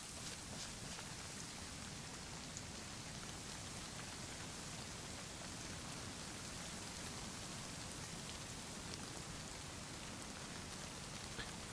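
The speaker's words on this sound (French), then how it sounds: "Ah, ça fait chier, il pleut quoi." Steady rain falls in the survival video game DayZ, set on the Chernarus map, a dense, even hiss of drops that holds unbroken and fairly quiet throughout.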